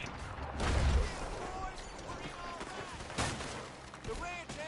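Gunfire in a Red Dead Redemption 2 ranch shootout: scattered rifle and pistol shots crackling at varying distances, mixed with shouting voices and commotion.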